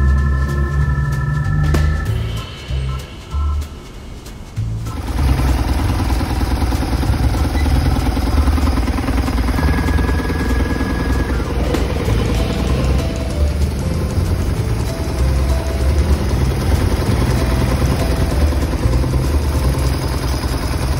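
A BMW R1100RT motorcycle with a fuel leak idles close by in a steady, clattering mechanical drone that runs for about fifteen seconds after a brief rougher stretch at the start.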